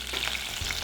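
Green chillies frying in oil with cumin in a pan for a rajma palak curry, a soft continuous sizzle with a faint stirring scrape.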